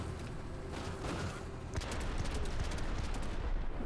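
A grenade launcher firing in the video game Menace, a continuous barrage of loud, dense gunfire-like bursts and blasts that grows heavier and more rapid partway through.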